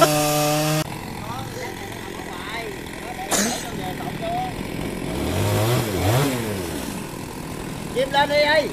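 A chainsaw whines and revs in bursts while cutting up a large fallen tree after a storm, with people talking loudly over the engine noise nearby.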